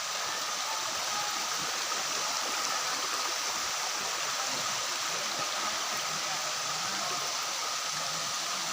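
A waterfall and its stream pour steadily in a dense, broadband rush that holds even throughout, close and loud with no other sounds standing out.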